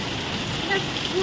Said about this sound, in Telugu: వర్షం అనేది ఫుల్ ఫుల్ ఫుల్ ఫుల్ దంచుతుంది